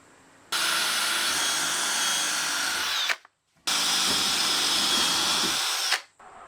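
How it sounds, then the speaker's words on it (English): A power drill bores holes into an Audi S3 rear bumper, running in two long, steady whining bursts of about two and a half seconds each, with a short pause between them and a spin-down at the end of each. "that's all of the holes drilled into the bumper"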